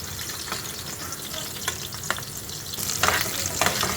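Onion and garlic fry in mustard oil, a steady close sizzle broken by spatula scrapes and stirs, which grow louder and busier over the final second, with no voices.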